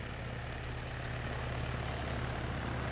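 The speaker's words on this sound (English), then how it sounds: "let's get in the helicopter" A helicopter's engine and rotor drone steadily in the ARMA 3 military game, a continuous broad rumble with a low hum, fairly quiet and uninterrupted.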